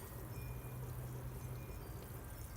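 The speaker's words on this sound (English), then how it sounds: "So I'm going to give these 6 plants a whole watering can of water" Water pouring steadily from a watering can onto freshly planted-out sunflower plants, a soft continuous splashing trickle, faint and unbroken with no voices.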